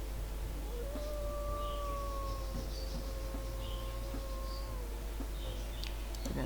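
A wolf-like character in Twin Journeys howls loudly, one long wavering tone held for several seconds over a constant low rumble of background noise.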